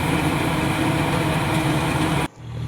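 A paddy harvester machine's engine idles loud and close in a steady, dense rumble, then cuts off abruptly near the end, leaving a quieter low hum.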